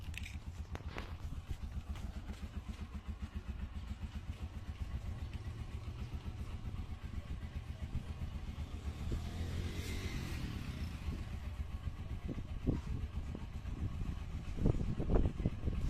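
A motorcycle engine idles steadily throughout, close and even, with a faint whine midway and a few sharper clicks and knocks toward the end as an automatic immobilizer module is being tested.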